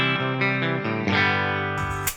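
Electric guitar played through a Line 6 Helix with a room reverb effect, sustained chords ringing with a soft ambient tail, close and clear, ending in a brief bright burst.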